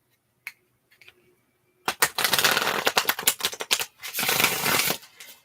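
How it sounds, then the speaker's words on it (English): Tarot cards riffled and shuffled by hand in a quiet room, a few soft taps first, then a dense run of crisp, close flutters and slaps lasting several seconds, with no talking. "I'm going to shuffle your cards just a little bit."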